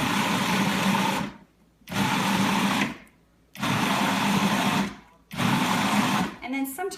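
A food processor pulses salsa ingredients in four loud, even bursts of whirring motor, each about a second long and split by short silences, with a faint rattle at the very end.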